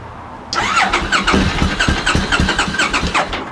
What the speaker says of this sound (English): you want to fire it up for us, or try? You pull the choke out, give it a bit of chance.